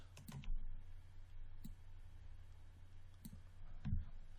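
Computer mouse clicking during 3D modeling in Maya 2016: a few sharp, close, faint clicks scattered at irregular intervals over a low steady hum, with no talking.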